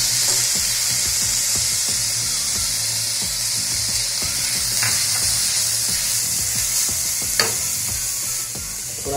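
A coconut burfi mixture with saffron being stirred in a pan, continuous loud sizzle with rapid rhythmic scraping of a spatula throughout and an occasional sharper clink, close up and free of speech.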